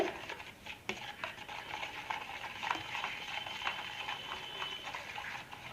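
Roasted gram flour stirred into ghee for ghee Mysore pak, giving a soft continuous sizzle with a scraping spoon and occasional faint ticks, fairly quiet and close.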